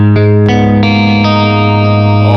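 A single dark minor guitar chord rings out, strummed with a couple of quick re-attacks, heavily effected with chorus and distortion, sustaining and slowly fading.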